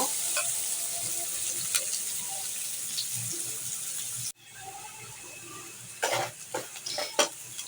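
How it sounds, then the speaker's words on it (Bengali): Onions and potatoes fry in an oiled pan for a chicken liver curry, with a steady close sizzle and then a quick burst of spatula scrapes and clinks as the mixture is stirred. "পেঁয়াজগুলো হালকা ভেজে নেব।"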